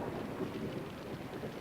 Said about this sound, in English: I hear the sound of thunder, Your Majesty.